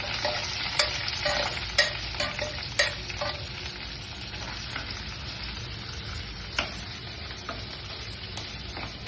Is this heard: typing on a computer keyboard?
no